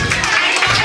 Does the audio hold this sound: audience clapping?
yes